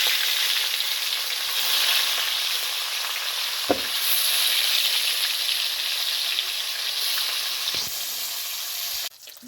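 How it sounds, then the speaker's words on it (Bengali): Taki fish frying in hot oil, a steady loud sizzle with broadband crackle running throughout, broken by a few brief sharp pops and clinks near the start and end. "তেলটা গরম হয়ে গেছে, এবার মাছগুলো ভালোভাবে ভেজে নেব।"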